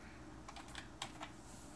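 Several keys pressed on an Ombar LED backlit gaming keyboard, including the function and scroll lock keys, giving about five quiet, separate clicks over a low steady background hum.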